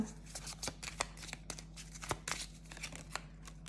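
Oracle cards being shuffled by hand in a quiet room, a quick run of soft papery flicks and riffles in an uneven rhythm, close and faint, with no talking.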